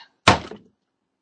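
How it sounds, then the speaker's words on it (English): A heavy cellar door bursts open with a single loud booming thud, a short sharp impact that trails off quickly into silence. "The cellar door flew open with a booming sound."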